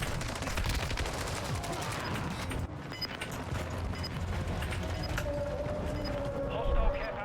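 Rapid bursts of enemy gunfire in a first-person shooter, dense machine-gun rattles and volleys crackling over a busy game soundscape, with a voice talking through parts of it.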